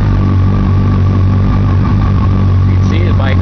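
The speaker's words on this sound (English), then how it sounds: "Go ahead and start it up here." A 2007 Yamaha FJR1300A sport-touring motorcycle, burgundy, fitted with a touring windshield and showing about 11,000 miles, runs with a steady, loud, close engine drone. Its tone holds even throughout, and a faint higher whine enters near the end.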